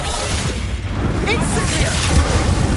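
Expulso explosion spell in Hogwarts Legacy: a loud, booming blast with a whoosh, set against dense battle noise and voices.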